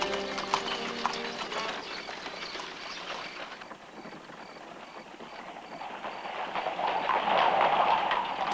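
Horses' hooves clip-clop steadily along the streets of Luxor, Egypt, as carriages are pulled past, moderately close with a busy outdoor backdrop and no talking.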